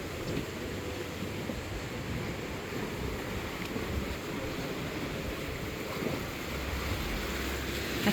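Ocean surf at Cozumel, heard from a beach gazebo, makes a steady, continuous wash mixed with wind buffeting the microphone, with no talking.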